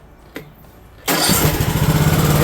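A brief pull-start tug, then a small Briggs & Stratton Intek lawn mower engine with a repaired decompression camshaft catches and roars into a steady, sputtering run.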